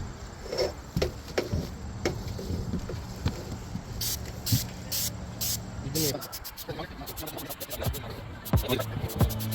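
Primer is sprayed onto a rusting metal roof in short hissing bursts, heard close up among scraping and handling noises, with faint talk under it.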